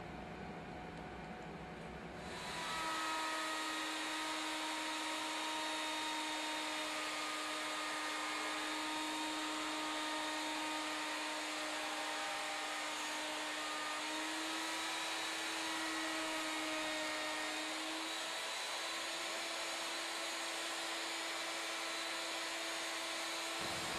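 A router fitted with a 2-inch core box bit milling the contoured section of a wooden flute, a loud steady whine starting abruptly after a quiet moment and holding with a constant tone and slight pitch shifts.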